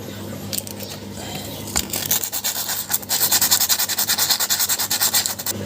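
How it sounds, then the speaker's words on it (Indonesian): Motorcycle brake pad being cleaned and sanded with coarse sandpaper, a close, loud abrasive scratching that becomes fast and rhythmic, with repeated back-and-forth rubbing strokes through the second half. "kita bersihkan dulu kampasnya"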